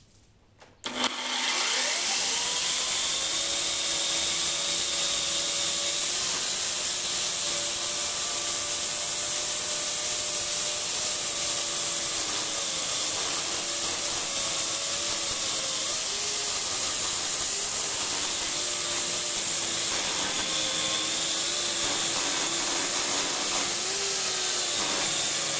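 A GTM electric chainsaw whines steadily and loudly through wood after a quiet start, holding a continuous motor drone with slight pitch dips as the chain bites.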